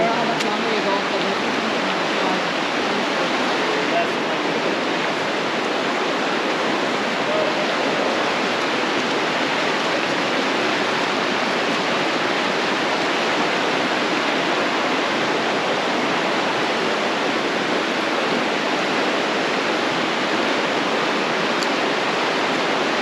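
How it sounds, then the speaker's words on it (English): A waterfall in the Zion Narrows canyon roars close by as a loud, unbroken wash of falling water that holds steady from start to finish. "The waterfall right over there."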